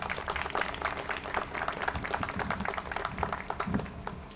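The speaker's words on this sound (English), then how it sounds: "let's give her a round of applause" A crowd at a 9/11 remembrance ceremony gives a round of applause, a dense burst of many hands clapping at once, close and fairly loud, steady for several seconds.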